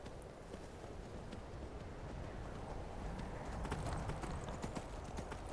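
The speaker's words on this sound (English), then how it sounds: "On our way to the Vale, on our trusty steed, Shadowmere" Hooves clip-clop steadily as a horse travels at pace in the Skyrim video game, a continuous quiet rhythm with faint wind behind it and no voices.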